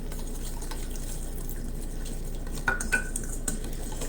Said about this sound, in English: whisk all of this together and add our lemon juice to it